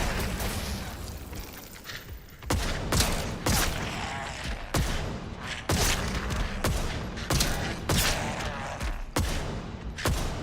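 Rifle gunfire in the video game Atomfall cracks out in a string of sharp, loud shots spaced irregularly about a second apart, each with a short decaying tail.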